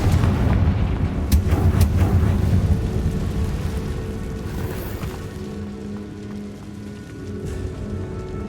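A Confringo explosion spell in Hogwarts Legacy on PC, heard as a loud, continuous rumbling blast. Heavy low crackling roars like artillery or thunder and fades slightly toward the end.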